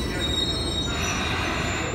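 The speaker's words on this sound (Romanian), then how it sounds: "Iată și trenul meu." A metro train pulling into an underground subway station, with steady loud rumble and high wheel squeal throughout.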